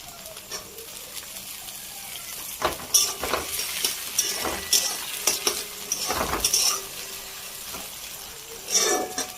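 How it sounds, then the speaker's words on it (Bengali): Chopped tomatoes sizzle steadily as they fry while a utensil scrapes and stirs through them, with several louder scraping strokes and a few light metallic clinks. "টমেটোটাও হালকা ভাজা হয়ে গেছে বন্ধুরা"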